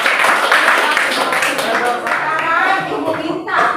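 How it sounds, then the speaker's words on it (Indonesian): Classroom of students clapping hands together in a steady, continuous patter through the whole stretch, with background chatter mixed in, during a science lesson on static electricity. "Oke, kita beri tepuk tangan."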